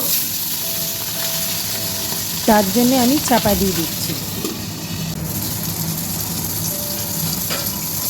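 A fish head frying in oil in a kadai, turned to cook its other side, gives a steady sizzle throughout, with a voice talking over it and a brief clatter partway through.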